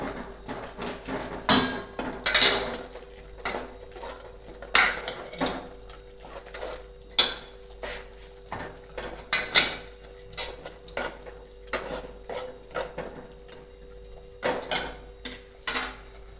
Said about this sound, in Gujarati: આપણે સારી રીતે હલાવી દઈશું.